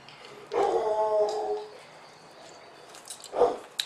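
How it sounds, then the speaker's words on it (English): Dogs bark and yip at a home brewery, in two separate bursts a few seconds apart, fairly close and loud, with quiet room sound between. "Here they go again. Dogs are off."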